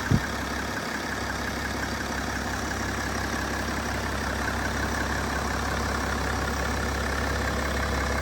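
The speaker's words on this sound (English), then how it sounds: "So we've left the engine running." A BMW X4 3.0d's steady, low diesel engine idle drones on without a break, close and even, with a constant rumble and no voices.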